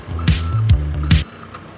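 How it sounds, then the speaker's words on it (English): Road sweeper reversing alarm while the sweeper backs toward a skip to empty its hopper: three loud, evenly spaced beeps with a low engine rumble underneath. "Can you hear that alarm? That's the sound the road sweeper makes to warn everyone that it's reversing."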